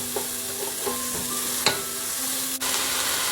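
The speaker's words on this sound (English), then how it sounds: "I've started by chopping 1 small onion and adding it to the pan" A small chopped onion fries in a pan with a steady, close sizzle. A few soft stirring scrapes and taps are spread through it, and no one speaks.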